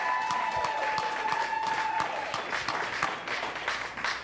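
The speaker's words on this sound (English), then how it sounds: "Give yourselves a round of applause." An audience at Oddfest 2012, a live show, applauds in a steady crackling wash for several seconds, with a thin whistle-like tone early and a few louder claps close by.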